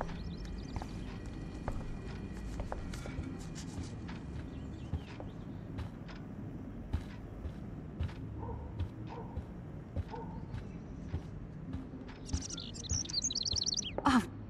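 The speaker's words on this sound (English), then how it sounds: "Can you help me get this bird out of here?" A bird trapped indoors in a house in the game Life Is Strange gives faint, scattered chirps and tweets over a quiet room ambience, with a brief sharper burst of calls near the end.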